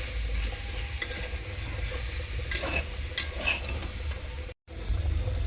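Chickpeas, soybean chunks and vegetables being stir-fried in a little oil in a pan, with a constant sizzle broken by scattered clinks and scrapes of a spatula stirring, close up.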